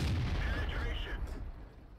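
A Tiger P tank's cannon fires in World of Tanks, a deep booming shot that rumbles and fades over a couple of seconds, with a voice speaking faintly underneath.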